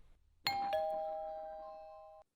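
A single two-note electronic chime from a Ring Video Doorbell 3 rings out clearly, its bright tones sustaining and slowly fading for about two seconds before cutting off.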